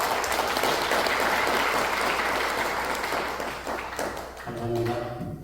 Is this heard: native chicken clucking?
no